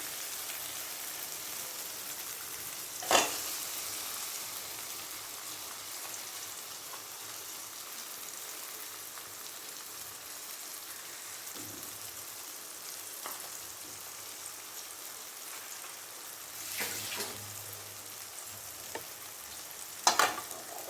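Masala fries in separated oil for vegetable biryani, a soft, steady sizzle resembling light rain, broken by occasional spoon knocks and stirring scrapes, heard up close with no talking.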